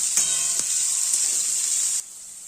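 Vegetables fry in a pan with a loud, steady sizzle and a couple of brief stirring clanks, then the hiss drops to a softer level near the end.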